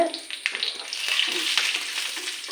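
Loud, steady hissing sizzle of chili powder hitting boiling oil close by, with a few faint scraping taps.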